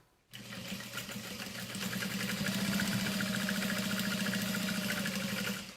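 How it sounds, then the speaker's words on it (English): A sewing machine stitches a Sandra saddle bag, a close, steady rapid mechanical whirring that runs continuously and alone for several seconds. "Baste that in place, and then sew along the outer edge."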